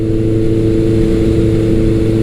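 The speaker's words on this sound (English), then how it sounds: "this bike has one of my favorite all-time motorcycle engines. It's a big 1100cc air-cooled 2-valve per cylinder, 4-cylinder," Steady, loud drone of a 1983 Suzuki GS1100L's big 1100cc air-cooled, two-valve-per-cylinder inline-four motorcycle engine, holding a constant throbbing tone close by with no voices.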